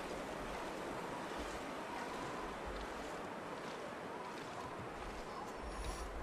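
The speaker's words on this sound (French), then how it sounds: "qu'est-ce que ça m'énerve ce vent" A steady gust of wind roars without pause in the survival game The Long Dark, a loud broadband blowing across the whole stretch.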